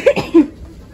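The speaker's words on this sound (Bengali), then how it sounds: "কার থেকে কে ভালো কাশি দিতে পারে" People take turns forcing coughs, a few short, close coughs with gaps between them, as if competing to give the best cough at home.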